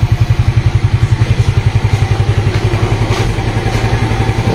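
A Suzuki Smash motorcycle engine idles steadily up close, its single-cylinder exhaust thumping in an even, rapid pulse that stays loud and constant throughout, with no voices over it.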